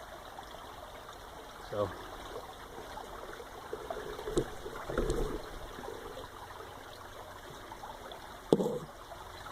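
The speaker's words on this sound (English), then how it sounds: "Little brook. In an old stone tunnel, which leads all the way up to that reservoir" Small brook runs out of an old stone tunnel below a reservoir, a soft continuous trickle and flow heard up close, with a few brief louder splashes or knocks and a short spoken word over it.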